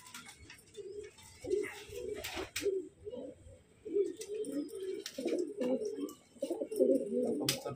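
Desi pigeons coo in repeated throaty bursts close by, several calls overlapping, with occasional rustling and scratching in the background.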